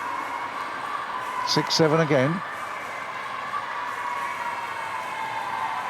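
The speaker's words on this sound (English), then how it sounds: "the crowd is really getting into this" Table tennis crowd cheering in a steady roar, with a brief shouted voice and someone speaking over it near the start, then the crowd noise continuing alone.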